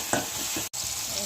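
Onions, chillies and tomatoes with turmeric fry in a pan while a spoon stirs them: a steady close sizzle broken by a few short scraping strokes and a brief cutout midway, with no voices.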